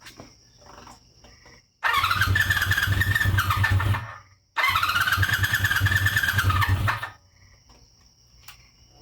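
A 1977 Honda CB400F Super Sport four-cylinder motorcycle, a basement find with leaking carburetors, cranks and catches in two loud, close bursts of rough engine running, separated by a brief pause and followed by quieter idle-level background.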